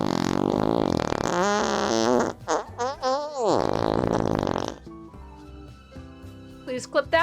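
A loud comedic fart sound effect, with a long wavering, buzzy bending tone in the middle and a few sharper blurts near the end, played over busy stream background sound.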